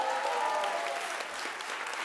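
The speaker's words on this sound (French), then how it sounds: "Voilà, applaudissements." Brief audience applause at a closing and awards ceremony, a dense wash of clapping from a crowd holding steady for about two seconds.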